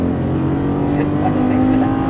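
A Lamborghini Gallardo accelerates hard out of a corner on a track, a loud steady engine roar with a rising droning tone.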